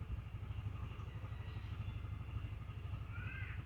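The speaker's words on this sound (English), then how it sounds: "So if I turn this throttle, now the engine is running. It's a very smooth engine." A TVS Jupiter 125cc BS6 2021 scooter engine idles quietly in a garage, a soft, even low rumble that stays steady throughout with no voices.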